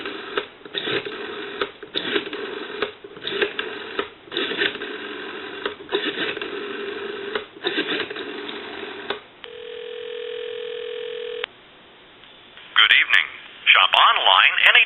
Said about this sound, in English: I'll give you some dial tone, and we'll call our time and temp number